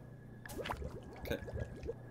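Water running into a sink in Job Simulator, a watery splashing and dripping burst with squishy gurgles over about a second and a half, fairly close and alone.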